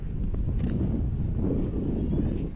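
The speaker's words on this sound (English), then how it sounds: "It's a bit windy." Wind buffeting a microphone on the beach at Gantheaume Point near Broome, Western Australia, a loud continuous low rumble with gusty swells and no speech.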